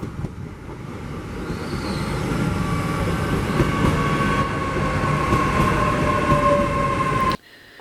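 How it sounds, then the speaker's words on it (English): A British IET intercity express train bound for St Erth, Cornwall, runs steadily with a loud, sustained rumble and faint whining tones, then cuts off abruptly near the end. "catching an IET intercity express train"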